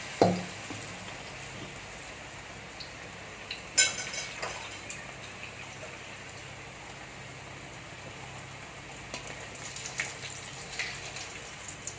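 Cauliflower that has been steeped in salt, frying in oil, gives a soft, steady sizzle. Light clinks of a utensil come through, and one sharper knock lands early on. The level stays fairly quiet, with no speech.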